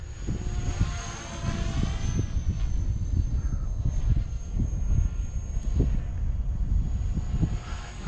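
A small 300X RC helicopter whirs steadily overhead with a high, thin motor whine and choppy blade pulses, loud and continuous throughout.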